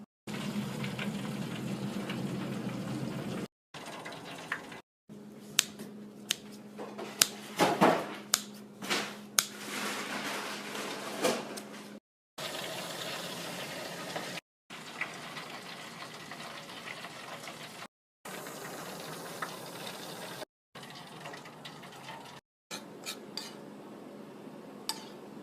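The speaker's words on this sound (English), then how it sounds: "In that time we'll fry the French fries and come back." French fries deep-frying in an electric fryer make a steady broadband sizzle and bubbling hiss, with scattered sharp crackles and clinks, broken into several segments by brief silent gaps.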